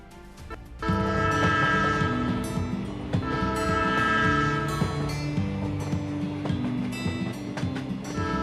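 A train's horn blares loudly and continuously with layered, droning tones at Bhavnagar railway station, with rumbling rail noise underneath.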